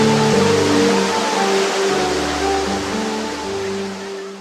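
The Sajla waterfall rushes in a continuous, full-bodied roar of falling water, heard close and loud, with sustained musical tones layered over it.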